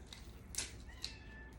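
A cat gives a couple of short, faint meows in a quiet room, each brief and thin, with near silence between them.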